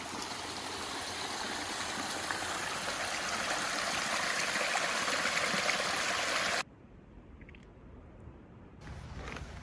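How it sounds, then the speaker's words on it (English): A flowing stream in an outdoor swimming spot, a steady broad rushing wash of water close by that cuts off abruptly near the end, leaving quiet before a faint return. "Let's check out the stream here"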